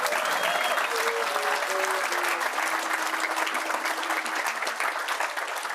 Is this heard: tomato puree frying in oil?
no